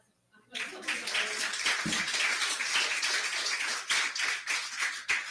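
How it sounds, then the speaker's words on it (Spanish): Applause from a conference audience in a Spanish-language talk on respect for diversity, starting abruptly after a brief quiet and continuing as a steady, dense clatter of hands with scattered sharper claps. "Un fuerte aplauso"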